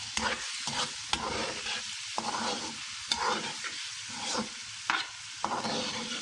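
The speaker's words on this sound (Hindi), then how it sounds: "सब्ज़ मिर्च शामिल करके मिक्स करेंगे।" Green chillies stirred into frying mutton in a pan, a close, steady sizzle broken by repeated scraping stirs about once a second, with no talking.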